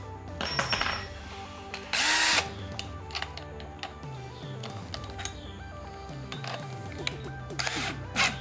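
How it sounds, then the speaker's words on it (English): A power drill boring out a hole in a workshop, whirring in bursts that start and stop, with sharp louder spurts, close and fairly loud, alongside clicks and handling noise. "so I'm putting it on the drill"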